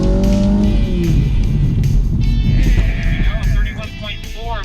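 BMW car driving hard on a wet course and braking, a dense engine roar with tyre and spray noise that drops off near the end, mixed with squealing tonal sounds.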